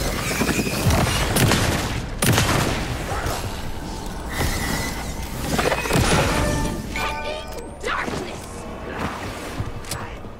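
Pistol gunfire in the video game Alan Wake 2: several sharp shots spaced a second or two apart over steady game ambience and mechanical clatter, fairly loud and close.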